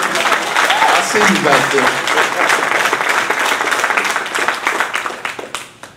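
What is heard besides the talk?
audience applause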